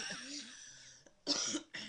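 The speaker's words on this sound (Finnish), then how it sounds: "Yskin teidän päälle." Several coughs from one person close to a webcam, a drawn-out raspy bout followed by two short sharp bursts, with faint breathy vocal sounds between them.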